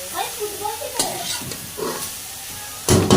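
A spoon stirs a mooli paratha filling of grated radish mixed with green coriander in a pan, soft scraping and faint sizzling strokes repeating, with a louder scrape at the end.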